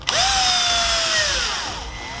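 A power drill drives a screw into a speaker back plate during a Porsche Cayenne audio install, making a single close, rising whine that settles into a steady motor tone for about two seconds.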